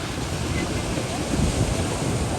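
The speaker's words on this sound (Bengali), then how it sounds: "খুব কাছে থেকে ঢেউ দেখাই যেটা তো ছোট ঢেউ" Small sea waves break on the beach at Kolatoli, Cox's Bazar, a dense continuous roar of surf with wind buffeting the microphone, loud and close throughout.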